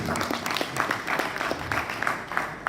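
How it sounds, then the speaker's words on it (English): An audience at a farm's annual symposium applauds, a dense, steady wash of many hands clapping close by, sustained without a break. "A round of applause for OK."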